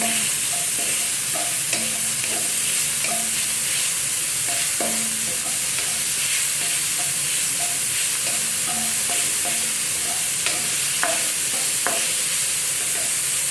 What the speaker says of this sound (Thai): นี่เป็นหมูสับนะทุกคน ผัดให้สุกเลยค่ะ